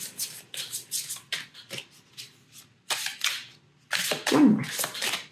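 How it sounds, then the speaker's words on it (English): Tarot cards are shuffled by hand in the old-fashioned way, giving a series of quick, close, crisp riffling and slapping bursts in uneven clusters, with no talk over them. "So I just shuffle the old-fashioned way."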